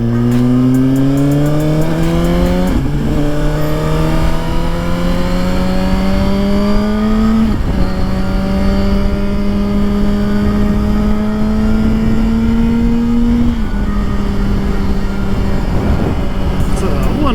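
Suzuki GSX-R1000 motorcycle engine revving hard and close. It pulls up through the gears, its pitch climbing steadily and dropping sharply at three gear shifts, loud and continuous throughout.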